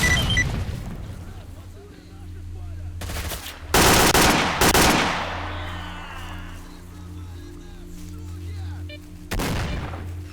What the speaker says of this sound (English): That's a grenade coming in.